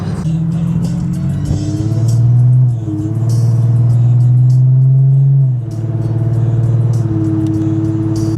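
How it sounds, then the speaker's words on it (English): Car engine hums and shifts pitch while driving home through heavy traffic, with gear changes and surges of acceleration, loud and close from inside the cabin, and someone talks over it. "Just heavy traffic, lots of passing"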